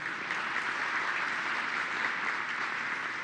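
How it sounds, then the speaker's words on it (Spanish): Audience applause at the closing of the 84th Banking Convention in Mexico City, a dense, steady wash of many hands clapping that holds loud and even for the whole stretch, with no voices over it. "Los recibimos con un fuerte aplauso"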